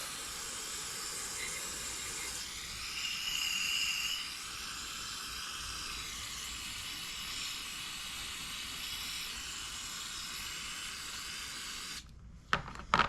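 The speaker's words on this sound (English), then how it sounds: "so we'll just spray all this out" Cleaner sprays into a Mikuni carburetor from a Yamaha TTR90E in a steady, close hiss running almost unbroken for several seconds, then stops, followed by a few short knocks and clatters.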